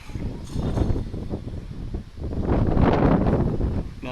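Strong outdoor wind buffets the microphone in continuous gusty roaring that rises and falls, loud and close, with no talk.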